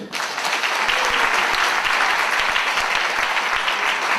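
A crowd applauds loudly and steadily, a dense wash of clapping from start to finish with no voices over it.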